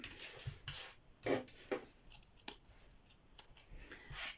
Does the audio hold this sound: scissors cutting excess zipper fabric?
yes